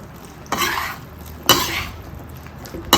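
Chana masala with freshly chopped coriander stirred in a pan with the heat off, spoon scraping in three distinct bursts spaced about a second apart, close and moderately loud.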